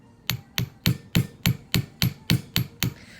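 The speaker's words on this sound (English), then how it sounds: "This is a special hammer. It's a chasing hammer." Ten even, sharp metallic taps from a chasing hammer striking aluminum wire for a coiled bracelet, evenly spaced and close, with a short ringing decay after each blow.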